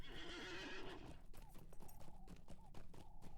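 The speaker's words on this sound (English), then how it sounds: "Let's take the slow horse." Horse hooves clip-clopping at a steady trot in the fantasy video game Lord of the Rings Online, following a short whinny at the start, with a regular rhythmic beat and no talk over it.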